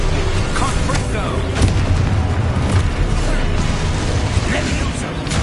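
Confringo blasting curses explode in the video game Hogwarts Legacy amid dense spell combat, a continuous loud barrage of booms and crackling impacts with no break, close and heavy throughout.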